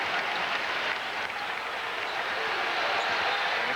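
Arkansas home crowd at a 2001-02 college basketball game against Illinois roaring and cheering steadily after a made free throw, a dense wash of crowd noise throughout.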